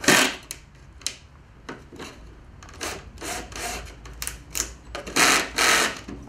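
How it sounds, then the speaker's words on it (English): A jigsaw cuts pallet wood in short, rasping bursts separated by pauses, its buzzing blade grinding through the timber close by at moderate loudness. "I've got to do something when I get that jigsaw in my hand."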